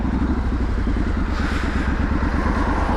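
Triumph Street Scrambler motorcycle riding at steady normal pace through a town centre, its engine a continuous low throbbing rumble with dense firing pulses, loud and close throughout without revving.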